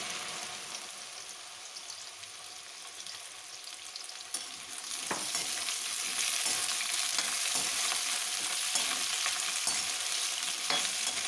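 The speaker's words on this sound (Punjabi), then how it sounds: "ਤੇਲ ਹੁਣ ਗਰਮ ਹੋ ਗਿਆ ਏ ਇਹਦੇ ਵਿੱਚ ਪਿੰਡੀਆਂ ਨੂੰ ਪਾ ਕੇ ਫਰਾਈ ਕਰ ਲਾਂਗੇ" Okra (bhindi) fries in hot oil in a kadai, a continuous crackling sizzle with scattered pops that swells louder about halfway through and then holds steady close by, with no talk.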